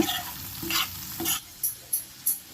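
Fish curry masala stirred in a pan, a spoon scraping and stirring in several distinct strokes over a soft sizzle, the later scrapes sharper and evenly spaced, close up with no talk.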